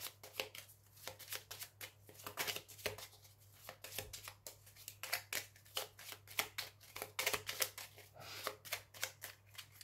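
Tarot cards shuffled for a monthly astrology reading, a steady run of quick papery riffles and flicks, close and fairly quiet, continuing throughout over a low steady hum with no talking.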